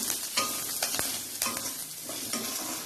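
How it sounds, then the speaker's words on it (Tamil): Coriander leaves sautéing in a pan for mutton gravy, a steady sizzle broken by repeated scraping stirs of a spoon, close and fairly quiet, no voices. "ஆட் பண்ணி ஒரு வதக்கிக்கலாம்."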